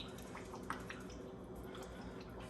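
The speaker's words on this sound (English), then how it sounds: "I'm gonna pour like some of that Maggi soya sauce all over the turkey" Maggi soy sauce poured over a turkey for roasting, a faint liquid trickle with soft drips and splashes, quiet and close, with no talking.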